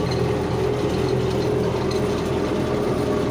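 A Belarus 1221 tractor engine runs at a constant speed, giving a dense, unbroken low rumble with a faint steady whine on top, heard close and alone.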